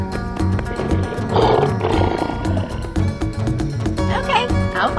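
A lion roars loudly amid layered animal sounds and music in a guess-the-animal door game, with the roar swelling in the middle and continuing densely throughout.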